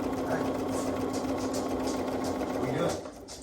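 A sewing machine stitches a quarter-inch seam while a quilt block is finished, running as a close, steady rapid hum for about three seconds before it stops.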